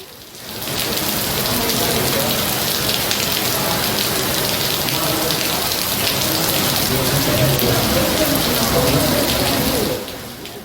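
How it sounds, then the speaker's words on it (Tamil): Moderate rain falls steadily in Namakkal under overcast skies, a dense, even hiss of drops on surfaces that holds at constant loudness for about ten seconds with no voices. "காலை முதலே வானம் மேகமூட்டத்துடன் காணப்பட்ட நிலையில் மிதமான மழை பெய்தது."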